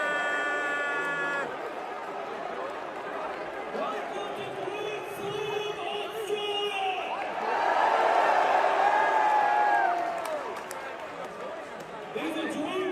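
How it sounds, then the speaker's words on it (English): An Australian arena crowd at an AEW Grand Slam wrestling show roars and cheers, a broad sustained wash of voices that swells louder midway and stays thick throughout. "This was the reaction from the Australia crowd."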